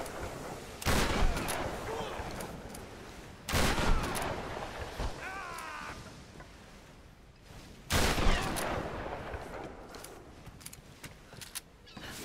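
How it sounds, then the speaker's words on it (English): Enemy gunfire in the Tomb Raider video game comes as three bursts of loud automatic fire with quieter rumbling and faint effects between them, no talk over it. "Sounds like they got guns."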